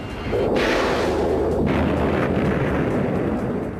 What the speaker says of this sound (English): the number one weapon of choice of an A-10 pilot is going to be their gun